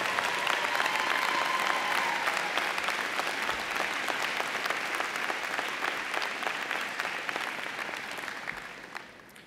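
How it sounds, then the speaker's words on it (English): A large audience applauds at a university spring commencement ceremony for the College of Applied Health Sciences, loud sustained clapping that tapers slightly toward the end. "They deserve a loud, also, round of applause for what they have done for you"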